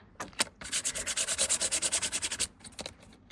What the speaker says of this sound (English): I'm just going to put that down like that and give it a rub